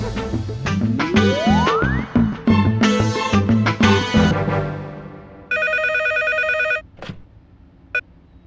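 A telephone rings in an Indian TV drama scene, a steady electronic ring heard after a burst of dramatic music and a rising sound effect, then a brief final chime.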